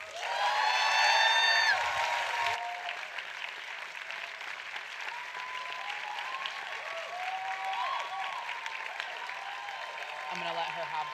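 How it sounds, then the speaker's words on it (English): An audience applauds a speaker at an inspirational flash-talk event with loud, dense clapping and a few whoops, then it thins to a steadier smattering that continues for the rest of the stretch. "I'm going to let her have this applause"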